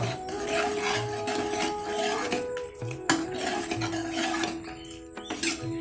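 A spoon scrapes and clinks around a pan while bottle gourd kootu is stirred, producing repeated rhythmic metallic rubbing close up with occasional knocks against the pan.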